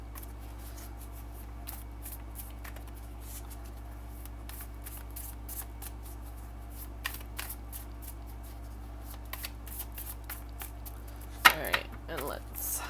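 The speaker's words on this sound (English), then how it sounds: "We're going to overhand shuffle a few more times here." Soft, steady rustling and riffling of tarot cards being overhand shuffled by hand, quiet and close, with a few louder taps near the end.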